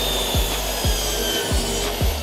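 A handsaw cutting tongue-and-groove wooden wall panelling, with four even back-and-forth strokes about half a second apart, loud and close over a steady background.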